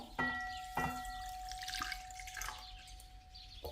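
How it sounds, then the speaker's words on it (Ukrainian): Warm milk is poured into a bowl of dry yeast, making a brief close splash followed by a soft trickle and a few drips, fairly quiet overall. "У блюдо висипаю сухі дружджі, виливаю тепле молоко"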